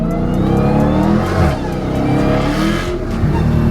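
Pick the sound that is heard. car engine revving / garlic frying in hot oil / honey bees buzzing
car engine revving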